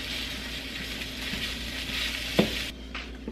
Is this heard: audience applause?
no